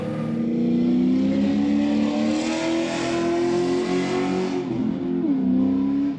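A Chevrolet C10 pickup accelerates hard from a starting grid, its engine note climbing steadily in a loud, sustained roar that holds for several seconds, with a brief dip near the end as it shifts.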